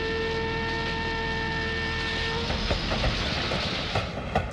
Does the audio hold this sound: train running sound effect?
yes